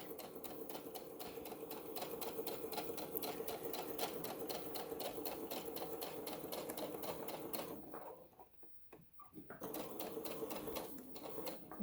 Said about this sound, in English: So each time you come to the pin, stop with your presser foot.